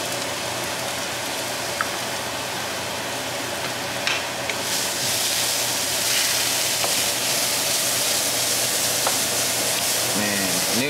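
Onion and candlenut fry in a pan with a continuous, crackling sizzle that intensifies midway, punctuated by faint clinks of stirring and ending with a clatter of a utensil against the pan.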